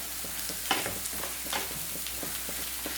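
Onions and chopped brinjal fry in a pan while being stirred, a steady close sizzle with repeated short scraping strokes of the spoon.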